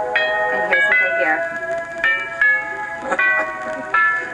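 A bright electronic doorbell plays a festive Christmas chime melody, a sequence of ringing tones repeating in short phrases, fairly close and clear.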